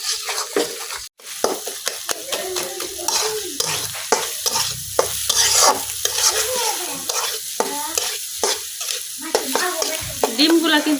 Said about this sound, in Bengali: এখন লাড়াই তেলের ডিমটা কিছুক্ষণ ভাজি করে নেম।